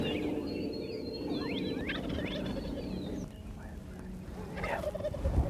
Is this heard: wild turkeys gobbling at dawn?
yes